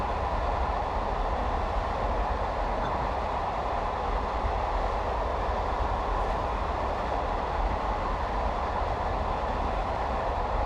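A train running in Train Simulator 2017, a loud steady rumble with a constant rolling drone and no voices.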